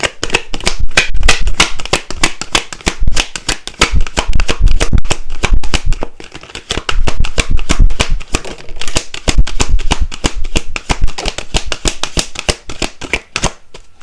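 A deck of cards is shuffled for a card reading. It makes dense, rapid riffling and snapping bursts that repeat over about fourteen seconds with brief pauses, close and fairly loud, with no talking.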